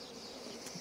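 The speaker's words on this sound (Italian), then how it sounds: "Non stiamo usando fumo, come vedete le api, nonostante il caldo," Honey bees hum in a dense, steady buzz at an urban hive on a hot day, close and continuous, with no voices heard in this brief moment.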